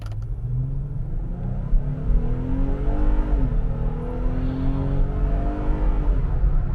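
A Jeep Gladiator's 3.6 L Pentastar engine pulls away from a stop, its steady low rumble climbing through rising gear tones as it accelerates, heard from inside the cab with no talking.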